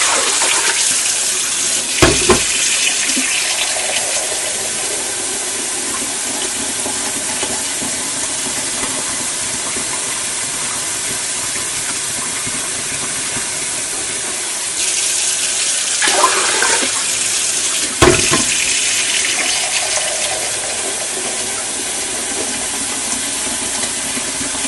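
Hot water pours steadily from a tap into a measuring cup while making hummingbird nectar, a continuous bright hissing rush that holds for the whole stretch, broken by a couple of brief clunks and shifts in the stream.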